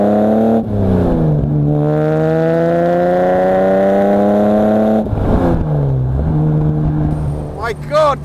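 A classic Jaguar or Alfa Romeo Duetto Spider sports car engine pulls hard through the revs, climbing steadily in a loud close drone, dropping at a gear change, then rising again.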